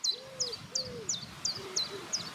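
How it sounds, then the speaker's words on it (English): Chiffchaff singing outdoors on a countryside cycle ride, a steady series of about seven sharp, high chirps at an even pace, clear and fairly close, with a low cooing call underneath. "There's a chiff-chaff."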